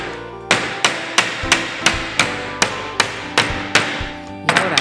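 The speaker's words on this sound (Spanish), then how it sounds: "Sacamos también los clavos." A hammer strikes nails out of wooden boards in a quick, even series of about a dozen sharp, close knocks, each ringing briefly before the next.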